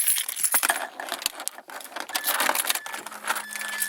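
Car keys jangle in hand beside a 2005 Mazda 3, bright metallic clinks and rattles coming in bursts up close over roughly four seconds, with a faint steady hum underneath.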